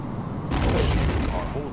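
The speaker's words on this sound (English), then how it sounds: "Enemy ship is firing. We have been hit." Enemy ship weapons fire striking the player's starship in Star Trek: The Next Generation: A Final Unity, a single muffled rumbling impact rising midway over a low background hum.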